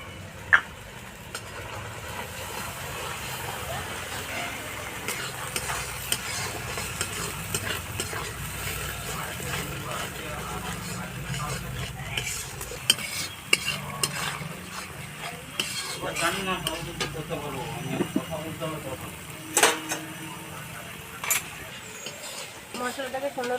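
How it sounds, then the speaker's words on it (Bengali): Spice masala with turmeric and salt stir-fried in a pan for vegetarian ghugni, with a steady sizzle under frequent scraping and clinking of a spoon against the pan, and a voice talking throughout. "মশলাটাকে সুন্দর করে কষে নিয়েছি"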